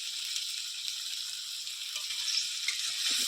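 Masala with cashew paste frying in a pan for a Bengali paneer and cauliflower dish, giving a steady, moderately loud hiss-like sizzle with faint scraping of stirring near the end.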